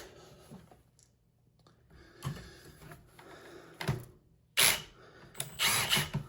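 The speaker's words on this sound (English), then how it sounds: "Let me just try this drill just a little bit. Let's see if I try and go in reverse" A power drill runs in reverse against a jammed 3D printer filament spool, giving short, uneven whirring bursts separated by quiet gaps, with the loudest spurts near the end.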